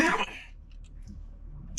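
A single short, sharp cough bursts out close by, followed by quiet room noise and a faint click.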